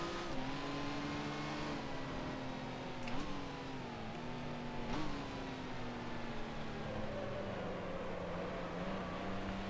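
A 1955 Formula One race car engine in Grand Prix Legends drones continuously, its pitch dipping and rising through gear changes and corners, with no voices over it.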